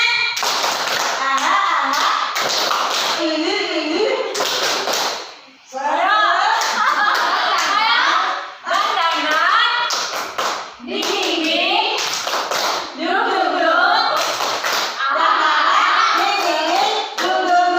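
A group of teachers and parents at a school positive-culture session performs rhythmic spirit clapping, crisp patterned claps in repeated bursts with brief pauses, close and loud, mixed with voices chanting along.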